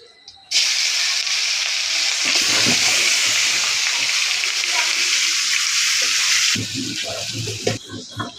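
Meat dropping into hot oil with cumin, bay leaf and dry chilli in a kadai, a loud steady sizzle that starts abruptly and roars on, settling quieter near the end, with faint voices and utensil clinks underneath.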